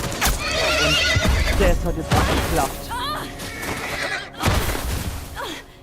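Horse neighing in The Last of Us Remastered, a few whinnies and clip-clopping hooves mixed with game noise and a crash, heard under someone talking.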